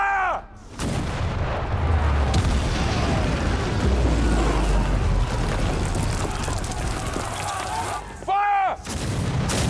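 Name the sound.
cannon artillery fire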